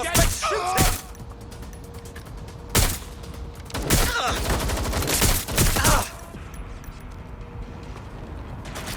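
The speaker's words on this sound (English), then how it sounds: "Suspect shooting!" Gunfire erupts in a shootout in the video game Watch Dogs: Legion, with several loud bursts of rapid shots and booming reports over a rumbling game background.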